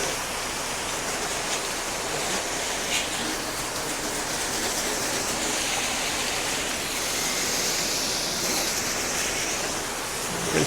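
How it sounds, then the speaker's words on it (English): Steady broadband hiss of a water spray rinsing a dirty, cobweb-covered window, continuous and fairly loud throughout with no voices. "Rinse this window really well here."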